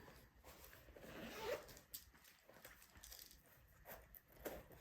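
A bag's zipper pocket being pulled, with a couple of short zipping strokes close by, fairly quiet against a soft background.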